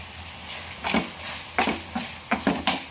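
Ginger paste and curry leaves hit hot oil in a pan, giving a series of short, fairly close sizzling bursts and spits at an irregular pace, with a few soft stirring scrapes between them.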